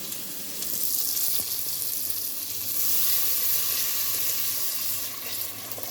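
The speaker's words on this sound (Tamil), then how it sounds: "இப்போ வந்து இந்த குழம்பு கரைசல் எடுத்து ஊற்றிக்கலாம்." Tamarind gravy mixture poured into a hot clay pot for a mango fish curry, giving a steady loud sizzle and bubbling hiss that swells and holds for several seconds with no voices.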